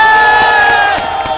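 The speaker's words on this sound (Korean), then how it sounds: "박수 한번 주세요" A large outdoor political rally crowd roars and cheers loudly, with shouting voices and a few claps blending into a dense, close wash of sound.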